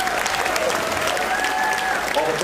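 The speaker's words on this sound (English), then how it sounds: "just another round of applause for all of our artists." Audience applauding the artists at a fingerstyle guitar festival concert, sustained even clapping from a crowd, with a voice speaking faintly underneath.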